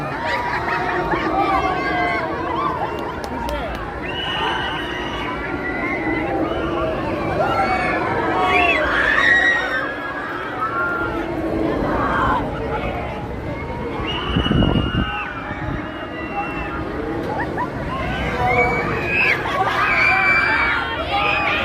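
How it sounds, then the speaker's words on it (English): Riders scream and shout from a tall amusement park ride at Canada's Wonderland, a dense wash of distant shrieks rising and falling over steady crowd chatter and hubbub. "And you hear those screams, some of joy, some of terror."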